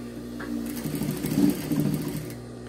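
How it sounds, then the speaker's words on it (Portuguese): A sewing machine stitches a fabric face mask, its motor hum swelling into a short burst of rapid needle chatter that peaks and then trails off, close up and alone without talk. "E agora, é só passar uma costurinha"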